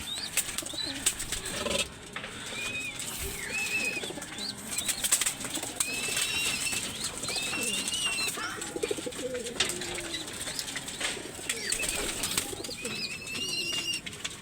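Pigeons coo continuously in a loft or rooftop coop, with bursts of wing flapping and other bird calls mixed into the busy outdoor soundscape; the birds sound fairly close.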